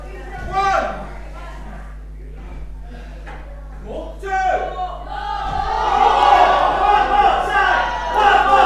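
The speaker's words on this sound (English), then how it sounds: "The crowd asking for one more time." A wrestling crowd in East Cowes Town Hall chants for another chair shot after a thunderous one. The chanting swells loud and dense in the second half, under a commentator talking throughout.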